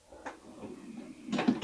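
A toolbox drawer rolls open with a brief slide and clunk, a faint rattle early on followed by a louder scraping slide and knock close by.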